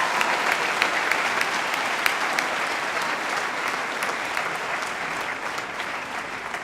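A school audience at a Year 12 graduation ceremony applauds the graduating students, with steady dense clapping throughout that fades slightly toward the end.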